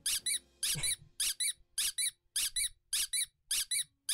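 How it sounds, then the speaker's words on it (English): Squeaky boots from the video game Pocket Mirror, footsteps giving crisp doubled squeaks in a steady, even walking cadence, about seven step pairs, distinct and unaccompanied. "You and your squeaky boots."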